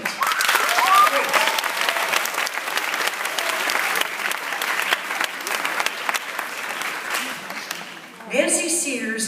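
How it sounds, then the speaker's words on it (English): A theatre audience breaks into loud, sustained applause at a lifetime achievement award ceremony, dense clapping running steadily for several seconds before thinning near the end as voices come through. "give yourselves a wild, wild hand of applause."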